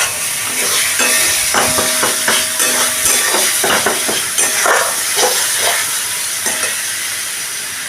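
Egg masala frying in oil in a pan, a loud, close, continuous sizzle and hiss with repeated scraping and stirring strokes of a utensil against the pan throughout.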